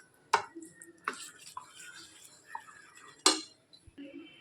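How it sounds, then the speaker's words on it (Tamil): Wheat flour adai batter being stirred with a metal spoon in a bowl, with a few sharp clinks of spoon against the rim between softer, wet scraping strokes, close by. "இப்படி கொஞ்சம் கொஞ்சமாக நல்லா சேர்த்து நல்லா கலந்து விட்டுறலாம்."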